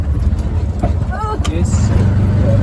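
A tuk-tuk drives along a road in Tanzania near Moshi, its engine a low steady rumble under close conversation and a voice in the cab, with rising road and motor noise toward the end.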